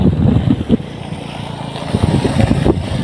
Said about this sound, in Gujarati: રાઇડર ભાઈઓ આવ્યા છે બાઇક લઈને